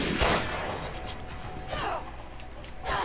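Gunfire in the video game Resident Evil Revelations 2: a sharp shot burst near the start and further cracks later, loud against a steady game background with people talking over it.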